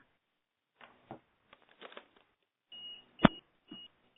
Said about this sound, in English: Okay, someone's beeping.